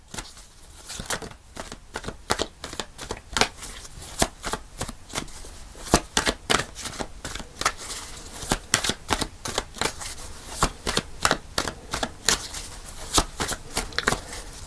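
A Radiant Wise Spirit Tarot deck is shuffled over and over, giving dense bursts of crisp card riffles and flicks that run on without a break. The sound is close and clear, with no speech.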